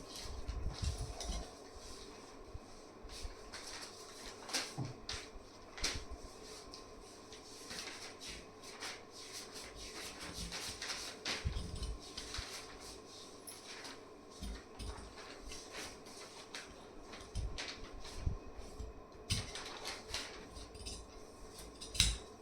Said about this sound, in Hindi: तिरछे निशान पे मैं कटिंग करूँगी।